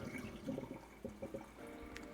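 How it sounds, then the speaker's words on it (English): Water pours and splashes as cooked food, in a dish of ground beef with sesame oil and soy sauce, is drained, a faint, steady gurgling run with no talk. "let me drain these real quick"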